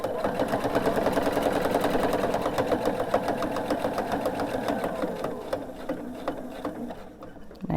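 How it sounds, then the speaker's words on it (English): A sewing machine stitches through the layers of a Night Sky quilt in a steady, rapid run of needle strokes, close and continuous, easing slightly toward the end. "I'm going to stop when I get to that line and do a couple back stitches"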